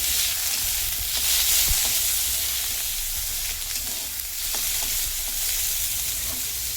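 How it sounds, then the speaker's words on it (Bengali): Continuous crackling sizzle of prawns frying in hot oil, steady and close, with faint stirring scrapes. "চিংড়ি মাছটা একটু ভাজা ভাজা হবে"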